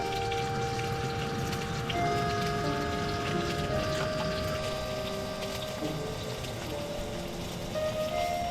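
Steady patter of rain falling on a surface on a windy morning in Norfolk, constant and moderately loud, with faint tonal hum in the background and no voices.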